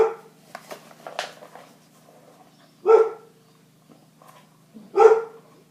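A dog barks indoors, a few sharp close barks separated by pauses of a couple of seconds, with faint rustling and handling noises in between and no speech.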